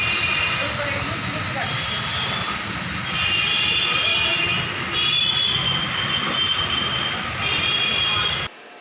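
Train at Kiul railway station in Bihar: steady loud rumble of rolling stock with high wheel squeal running throughout, continuous and close.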